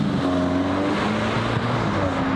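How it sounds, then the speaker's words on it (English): A Mk8 VW Golf R fitted with an R600 intake, heard from inside while driving: a steady, loud engine hum with stepped pitch changes as it runs through the revs, no talking. "literally the only noise I can hear is the R600 intake we've fitted"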